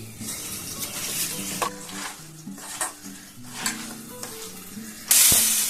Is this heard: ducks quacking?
no